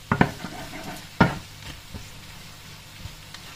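Onion and garlic sautéing in a pan, a faint steady sizzle broken by a few sharp spatula scrapes and clacks near the start, then quieter frying with occasional light taps; no speech.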